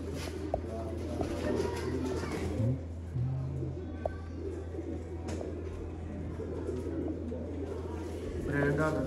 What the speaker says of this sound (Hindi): ਕਾਮਟ ਵਾਲੀ ਕਬੂਤਰੀ ਹੈ ਤੇ ਲਾਜਵਾਬ ਕਬੂਤਰੀ ਹੈ